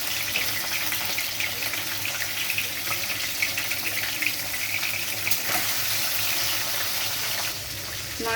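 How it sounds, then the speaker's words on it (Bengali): Hilsa fish heads fry in hot mustard oil in a kadai, giving a steady, close sizzle and crackle that runs unbroken, with no talking over it. "এবার আমি মাছের মুড়োগুলো ভেজে নেব।"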